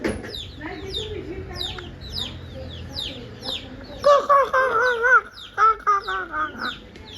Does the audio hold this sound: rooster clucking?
yes